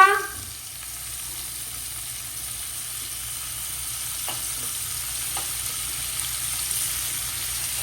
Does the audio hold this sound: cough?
no